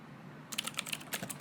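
Rapid keyboard typing in a video game, a quick irregular burst of clicky keystrokes that starts abruptly after a quiet moment and runs on, close and fairly crisp.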